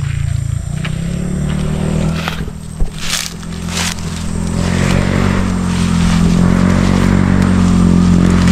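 A motorcycle passes nearby, its engine drone rising steadily louder over several seconds with a few scraping knocks early on.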